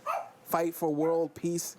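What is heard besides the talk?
dog barking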